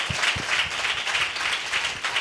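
A church congregation claps during a service, a quick uneven patter of many hands that stays moderate in level for a couple of seconds.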